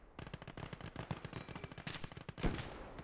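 Rapid machine gun fire in the WWII strategy game Call to Arms: Gates of Hell, a dense loud stream of bursts with a heavier blast near the end and no talking.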